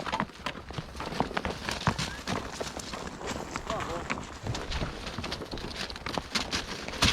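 Horses walk across a noisy surface on a mountain trail while driving bulls, giving a busy run of close, irregular hoof clops with outdoor noise throughout.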